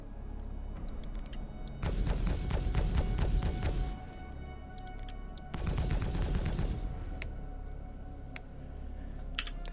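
Two bursts of rapid automatic fire from a turret on a Carrack ship in a space game, each about two seconds long of fast heavy repeating shots, separated by a quieter pause and followed by faint scattered clicks.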